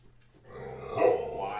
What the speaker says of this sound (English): Hey, no barking.